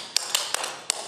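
Dance steps for the Dill Pickle Rag strike a floor in five sharp, loud taps at an uneven pace, with no other sound.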